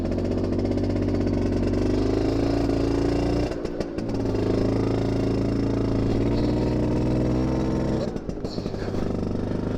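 A Vespa Smallframe rat-bike scooter engine runs slightly rich while warming up, a loud close steady putter with two brief dips in the engine note.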